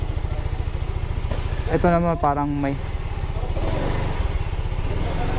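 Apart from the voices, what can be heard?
motor scooter engine running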